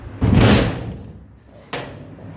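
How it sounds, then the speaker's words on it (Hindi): A door is pushed shut with a loud, close thud and a short rattling decay, followed a moment later by a second softer knock as it settles or latches. "दरवाज़ा बंद"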